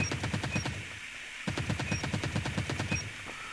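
An ASM10 assault rifle in a video game fires in two rapid bursts split by a short gap, with crisp, evenly spaced shots and faint mechanical clicks, close and with no talk.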